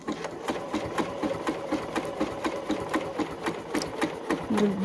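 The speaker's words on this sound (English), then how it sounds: "I'm going to back stitch now" Sewing machine back stitching along a mushroom appliqué, a steady rapid rhythmic chatter of needle strokes, close and fairly loud, with a brief change in pitch near the end.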